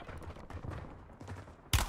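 Gunfire in a battle-royale shooter video game, a burst of overlapping shots rattling through a mid-level game mix, with a louder sharp blast at the very end.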